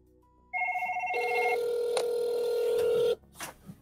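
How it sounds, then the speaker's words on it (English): An incoming call-queue call on a Vodia phone system produces steady electronic telephone tones: a two-pitch tone shifting to one long held tone for about two and a half seconds, clear and alone. "the agent will hear a ringing"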